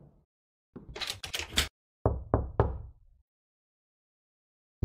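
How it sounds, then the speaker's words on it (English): Knocking on a door in a horror video game comes in two close bursts of sharp raps, a quick series of three followed by another three, set against silence. "He's knocking."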